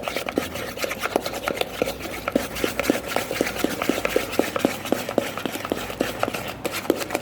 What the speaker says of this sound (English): See, the batter has been mixed well.